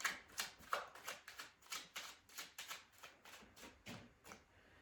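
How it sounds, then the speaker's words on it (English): Tarot cards are riffled and shuffled repeatedly in quick, rhythmic bursts, soft and close, with no voices. "That feels like a good shuffle already."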